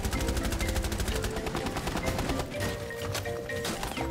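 Rapid automatic gunfire in Rainbow Six Siege, with dense, continuous bursts of shots that ease slightly toward the end and show no voices over them.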